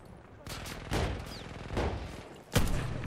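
Rifle fire in the World War I shooter Battlefield 1, several separate booming shots spaced irregularly, the last one loudest and sharpest, with faint game background between.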